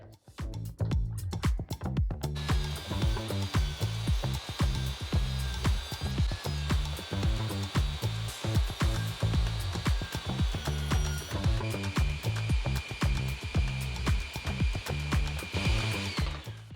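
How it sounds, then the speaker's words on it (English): A table saw cuts through half-inch plywood to make a miter-slot guide, a steady, loud motor whine with rhythmic thumping as the blade bites into the wood, running continuously throughout with no talking. "Now I'm going to use a piece of 1/2 inch plywood to cut a guide for the miter slot."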